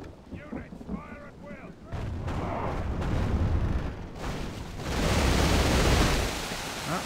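Army units firing en masse in the Third Age: Divide & Conquer strategy game, a dense roar of gunfire and booming volleys that swells louder toward the end, with a brief voice near the start.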